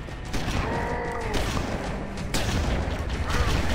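A video game firefight with Marines, where rapid gunfire rattles in a dense, continuous burst of loud shots and echoing booms, layered with a tonal whine and background battle noise.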